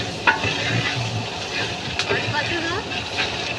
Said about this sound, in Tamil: அடி பிடிக்காத அளவுக்கு நல்லா கிளறி விடணும்.